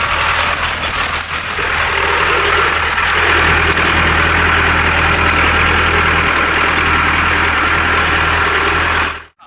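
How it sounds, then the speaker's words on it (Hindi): A 55 HP tractor hauls an 11-tine cultivator through hard ground, its engine a loud, steady, close drone with a deep throbbing hum and broad mechanical roar that runs unbroken before cutting off abruptly. "किसान भाई ने भी अलग अलग गियर में ट्रैक्टर चला के ट्रैक्टर का परफॉर्मेंस भी दिखाया है"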